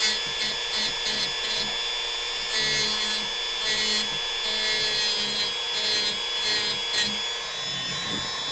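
Steady rasping friction of sandpaper worked back and forth over wood, a continuous gritty scrubbing with slight rhythmic swells, fairly close.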